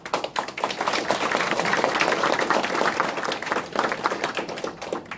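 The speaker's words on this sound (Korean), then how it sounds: "큰 박수를 부탁드립니다." An audience at an opening ceremony for a research institute branch office in Gumi applauds loudly and continuously, many hands clapping close by with a fluttering, uneven rhythm and no speech.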